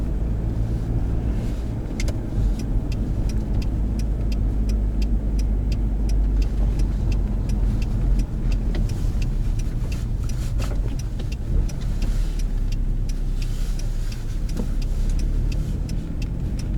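A Genesis Coupe 2.0 with manual transmission drives along, its engine and road noise a steady loud rumble with wind buffeting inside the cabin, and no gear change stands out clearly.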